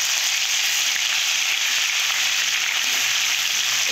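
Chopped ginger fries in hot oil, giving a loud, unbroken close-up sizzle that holds evenly from start to finish with no voices.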